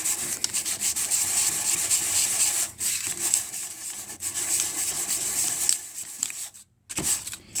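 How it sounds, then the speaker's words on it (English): Paint being roughed up on a Titanic wreck model diorama, a steady dry scratchy rubbing that continues almost without pause at close range, with a brief break near the end. "Get this paint roughed up."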